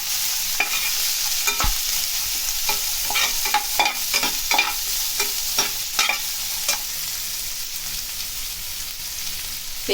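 Onions and curry leaves frying in hot oil for a potato gotsu, a continuous close sizzle broken by repeated scraping and clinking of a spoon stirring the pan, with no one talking.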